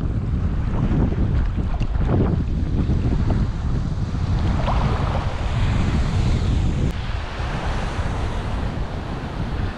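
Strong wind buffeting the microphone while waves slap and surge around a boat at sea during jig fishing, a loud steady roar throughout with no voices.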